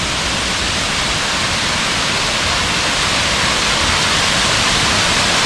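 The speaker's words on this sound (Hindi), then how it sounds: "ये खूबसूरत सा वाटरफॉल है" A waterfall near Gangtok, Sikkim, pours with a dense, constant roar of white-noise hiss, loud and unbroken throughout with no other sounds.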